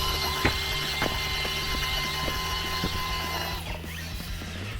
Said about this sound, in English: let's just check the top speed on 2S